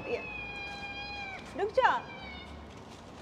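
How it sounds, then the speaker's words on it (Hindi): A cat that lives under an apartment building meows twice, a long drawn-out cry followed by a shorter rising one, close by, with a person talking in between. "ये वाली जो बिल्ली है ना ये हमारी बिल्डिंग के नीचे ही रहती है।"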